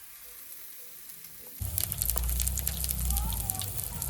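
After a quiet start, a loud steady sizzle of bakful flowers frying in hot oil rises abruptly and continues with crackling pops.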